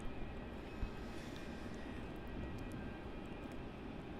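A Jetstar Airbus A321neo jet at Melbourne Airport makes a steady, distant broadband engine roar with no clear peaks.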